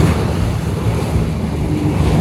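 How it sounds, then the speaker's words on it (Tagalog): Strong ocean waves surge against a boat at sea, a loud, continuous broadband roar mixed with wind buffeting the microphone, steady throughout with no voices. "Nakalakas yung alon."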